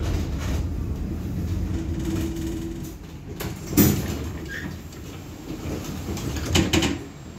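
Doors of a 71-623-02 tram slide and thud shut over a steady rumbling vehicle hum, followed by a brief chime and rattling.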